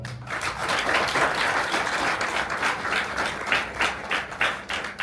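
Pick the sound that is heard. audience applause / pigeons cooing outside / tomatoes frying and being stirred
audience applause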